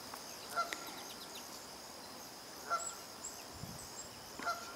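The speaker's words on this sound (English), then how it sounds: "This is a rusty blackbird, but I don't know for certain." Rusty blackbird calls at Sapsucker Woods: three short, faint calls spaced a couple of seconds apart over a steady background hiss.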